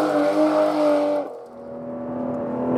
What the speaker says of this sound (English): Around town, you can just listen to the burble of the engine.